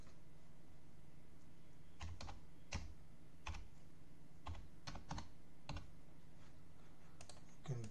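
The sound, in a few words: typing registration details on a computer keyboard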